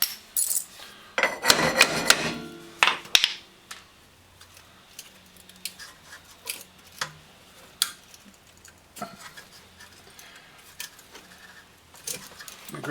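Rear brake bolt being loosened on a 2009 Pontiac Vibe, with scattered metallic ticks and clinks from a wrench on crusty hardware, a louder burst of scraping and rattling early on, then sparse close taps.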